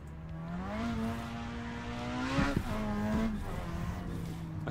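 In a street-car drift video game, an aggressive engine drone holds a steady pitch, then rises, dips sharply and recovers, with a brief tire squeal around the middle. It plays loud and continuous, with no speech.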